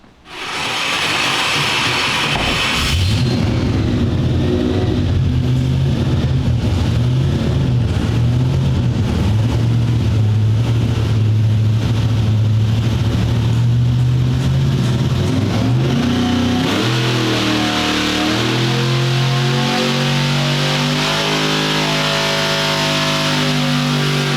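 A burnout competition car holds a loud, sustained engine rev close by at high RPM for roughly thirteen seconds, then the pitch shifts and it roars on at a different steady level, with no talk.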